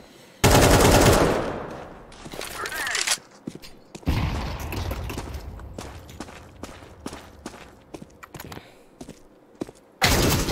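Automatic gunfire in the Counter-Strike 2 video game, with loud sustained bursts at the start and end and scattered single shots and footsteps in between, under occasional talk.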